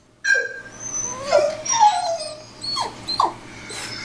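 A dog whimpers and yips in a series of high, sliding whines, close and fairly loud, with short pauses between cries and no talk over them.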